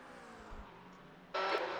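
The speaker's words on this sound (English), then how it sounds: "There's a car approaching." A faint engine drone hums low, then a louder bright rush of a racing car cuts in near the end, approaching at night in the iRacing 24 Hours of Spa.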